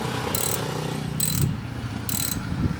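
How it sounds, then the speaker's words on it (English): A ratchet turns a bolt on a Chrysler 300 front brake caliper, giving three short bursts of clicking, spaced about a second apart over low mechanical background noise. "So you're turning the bolt with the ratchet and holding the part that it's screwed into"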